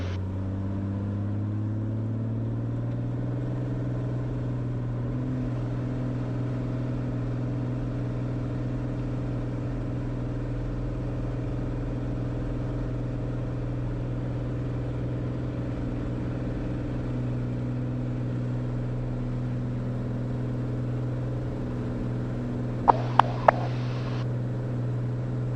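Cirrus SR22 piston engine droning steadily through a takeoff roll, a loud, even cabin hum with a strong low tone that rises slightly early on, joined by a brief clatter near the end.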